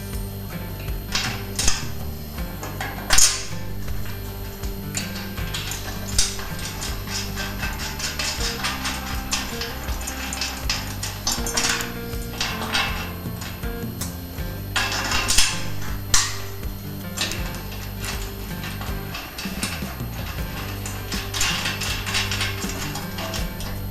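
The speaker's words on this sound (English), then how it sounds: "Give that a bit of a spanner, nice and snug." A spanner snugs bolts on a steel chassis jig in a workshop, with continuous ratcheting clicks and metallic clanks over a steady mechanical hum, close and fairly loud, a few sharper knocks standing out, with no talking.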